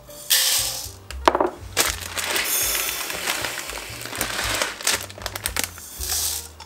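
Dry buckwheat grains are poured and handled for a turkey liver dish, giving a continuous close crackling, rustling patter with sharper clinks and bursts, with no talking.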